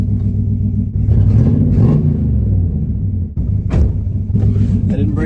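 A 1963 Chrysler 300J V8 idles low in gear, a deep steady rumble up close with a brief engine swell, as someone talks over it.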